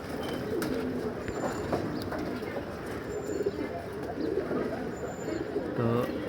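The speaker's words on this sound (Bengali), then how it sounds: "দুইটা কারণ আমি কবুতরগুলো ছাড়তাছি" Pigeons at a loft coo in low, soft bursts amid a dense, steady backdrop of bird noise, with a brief flutter of wings near the end; no one speaks.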